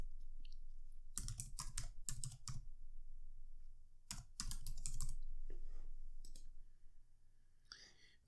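Keys clacking on a computer keyboard as an answer about networking is typed in, quick bursts of clicks in two clusters separated by quieter pauses, close and clear.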